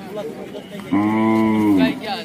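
A single loud, drawn-out moo from a bullock at a cattle market in Lasur Station, with people talking faintly before and after.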